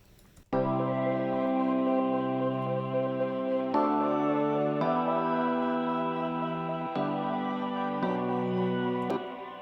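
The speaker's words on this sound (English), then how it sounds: "It is just a basic quarter note sidechain effect on top of it" Layered pop synth chords with a basic quarter-note sidechain effect, sustained and full, changing chord every couple of seconds, loud and alone.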